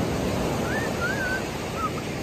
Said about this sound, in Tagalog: Grabe ang balod, oh.